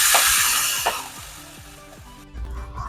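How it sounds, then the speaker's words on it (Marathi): Washed fenugreek leaves hit a hot pan spiced with turmeric and red chili powder, setting off a loud broad sizzle that fades as they are stirred in, with a few scraping strokes and a final clatter. "आता आपल्याला ही मेथी जी धुवून ठेवलेली ती टाकून घ्यायची"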